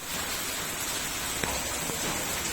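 Steady rain hisses down evenly as a dense, moderate patter, with a couple of faint, sharp drips or taps standing out and no voices.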